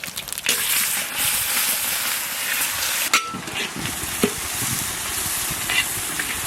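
Onion frying in hot mustard oil with bay leaf and cumin for a Bengali pomfret fish curry, a steady loud sizzle with occasional stirring clatter throughout.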